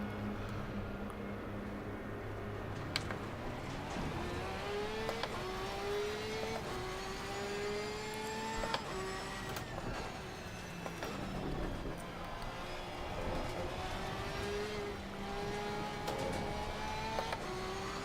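A Porsche 992 GT3 R race car engine in Assetto Corsa Competizione at Paul Ricard starts and revs, its rising engine tones sweeping up repeatedly in a steady, continuous drone with no talk over it.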